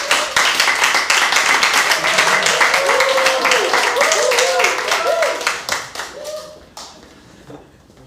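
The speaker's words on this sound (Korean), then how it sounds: "앞으로 목사님 나오실 때 같이 박수로 환영하도록 하겠습니다." A church youth congregation at a Sunday worship service claps together to welcome the pastor to the front. The applause is loud, dense and steady, with voices mixed in, then thins and fades out over the last couple of seconds.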